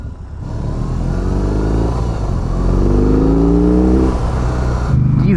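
A heavy BMW R18 cruiser motorcycle's big boxer engine pulls through a steady roll-on acceleration, a loud, continuous rising drone with no talk over it, easing off near the end.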